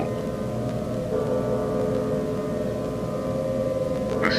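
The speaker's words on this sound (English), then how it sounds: "The Saudi Ministry of Civil has sounded the civil danger siren for entire of Saudi Arabia." A civil defense danger siren from an emergency alert in Saudi Arabia holds a steady, sustained wailing tone at moderate level, alone with no speech, and a brief brighter burst near the end.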